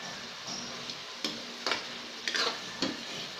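Chicken and pork adobo stirred in a pot on the stove, with several soft scraping and clinking strokes of a utensil against the pot over a steady simmering sizzle.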